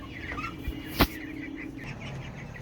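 Broiler chickens on a farm, being vaccinated through their drinking water, cluck softly and continuously in the background, with one sharp knock partway through.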